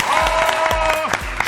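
A television studio audience applauds for show guests, continuous close clapping with a sustained tone and low thumps running underneath.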